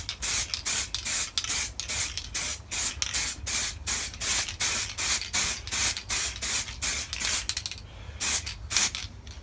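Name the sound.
spray painting a motorcycle tank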